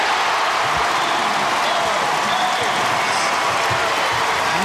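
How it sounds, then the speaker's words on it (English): Crowd at a Kentucky vs. Auburn college basketball game applauding a player, a steady broadband wash of clapping and cheering that holds evenly across the whole stretch. "Jared Polson again getting a big hand from this crowd"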